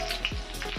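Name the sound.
mustard seeds, cumin and garlic frying in oil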